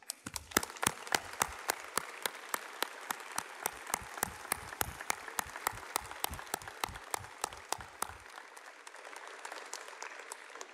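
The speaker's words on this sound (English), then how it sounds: "We invite your applause" Rhythmic clapping at a university lecture as past lecturers stand to be recognised, sharp regular claps in unison for about eight seconds, then a softer, thinning patter that trails off.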